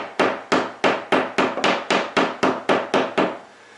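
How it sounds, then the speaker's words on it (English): A hammer strikes a kitchen drywall wall over a hidden nail about eleven times in a quick, even rhythm, each sharp close knock decaying before the next. "And you just give a little tap, and you can kind of indentation that"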